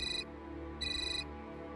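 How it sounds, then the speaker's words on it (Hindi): A mobile phone rings with an incoming call during an indoor scene of a Hindi TV serial: two bright electronic tone bursts separated by a pause over a low room hum, no speech. "मही का फोन आ रहा है"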